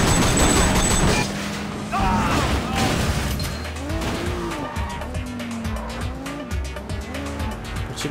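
A car in the video game Sleeping Dogs drives hard with loud, sustained engine roar and repeated tire squeals and skids, close and continuous throughout, with no voices.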